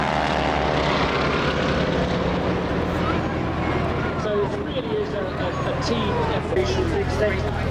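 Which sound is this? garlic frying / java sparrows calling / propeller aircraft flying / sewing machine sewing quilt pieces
propeller aircraft flying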